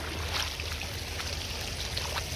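River water rushing steadily during a crossing, a constant close wash of flowing, splashing water with no break.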